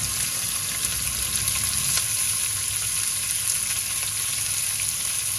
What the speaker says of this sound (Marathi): कांदा आपण लालसर होईपर्यंत परतून घेऊया.